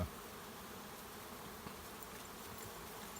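Honeybees swarm around beehives in a beeyard at the busiest time of day, making a continuous dense buzz that stays steady throughout, fairly faint and with no talk.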